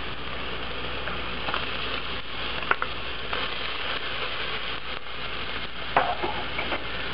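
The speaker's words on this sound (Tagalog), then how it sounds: "ihahalo na natin yung luya." Ginger stirred into softened onions in a hot pan for goto, a continuous close sizzle and fry with occasional scraping stir clicks, no talking.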